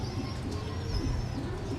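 Low, soft cooing of a Sialkoti pigeon rumbles steadily through the clip, close by, with faint chirps and a thin high tone above.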